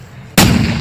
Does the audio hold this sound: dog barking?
no